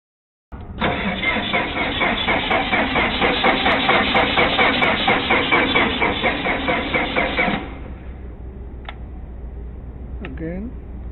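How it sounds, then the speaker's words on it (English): An XP375-WCU air compressor's engine cranks over rapidly and rhythmically for about seven seconds without catching, then the starter drops off, leaving a lower hum and brief squeaks. "the compressor is cranking but it's not starting"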